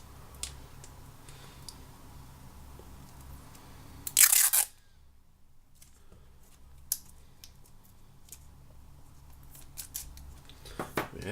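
Scissors make a brief, close snipping burst while cutting paper for a handmade stamped card with a glitter inlay, set in an otherwise quiet craft room.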